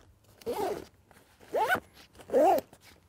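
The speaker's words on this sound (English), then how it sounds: "One of my favorite features of the Flex Capacitor is the zipper top lid." Three separate close, crisp zipper pulls open the zippered top lid of a Flex Capacitor ultralight hiking backpack, each rasping stroke short and distinct with brief pauses between.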